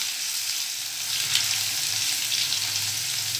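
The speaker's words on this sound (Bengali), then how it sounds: "রসুনটা একটু হালকা ভেজে নিচ্ছি" Garlic paste fries lightly in a hot pan, giving a steady, close, even sizzle with no talk over it.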